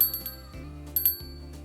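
Small bells being handled for a Christmas garland, jingling in brief bright bursts over a steady low hum, close and fairly quiet, with a few louder shakes near the end.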